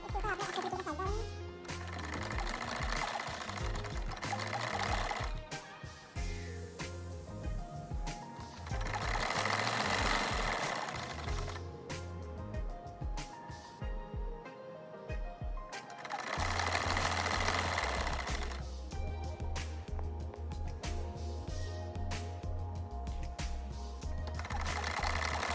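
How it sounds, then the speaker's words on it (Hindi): A sewing machine stitches a kurta in long runs of fast, even mechanical clatter, pausing briefly between seams, with someone talking over it. "इस साइड से मैंने इसको सिलाई लगाई थी"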